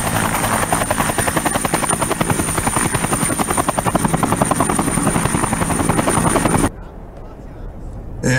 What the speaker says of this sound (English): You could hit another button, bring a helicopter in.